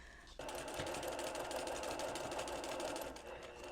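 Sewing machine stitching along a seam line while piecing a Double Monkey Wrench quilt block, a steady close, continuous hum that starts abruptly and runs for several seconds.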